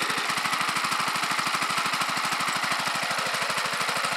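A small engine driving a homemade induction motor generator runs under throttle, a fast, even, loud chugging pulse that holds steady and close without any voices.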